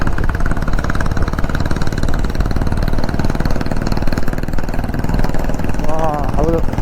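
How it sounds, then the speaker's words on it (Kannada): A vehicle's diesel engine on a road near Mysore, heard from a motorcycle ride, gives a steady, loud rumble blended with continuous wind and road noise throughout, with voices present. "ಹಾಂ ಹೌದು, ಡೀಸೆಲ್ ಇಂಜಿನು MEB."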